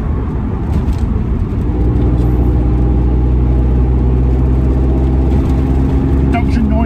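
Loud, steady engine and intake drone from an MGF sports car cruising in fifth gear, a dense mid-low rumble with slight rises in pitch, close and continuous throughout.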